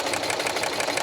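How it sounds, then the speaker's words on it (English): Sewing machine stitching car seat upholstery, a fast steady mechanical whirr with a rapid even needle rhythm, close and continuous for a brief moment. "All right, back to sewing."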